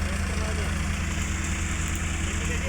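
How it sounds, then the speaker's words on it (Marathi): A tractor runs in a farm field during soybean threshing, its engine a steady low, rhythmic throbbing drone, close and continuous, with faint voices underneath. "इकडं ट्रॅक्टर जे चालू आहे तिथं"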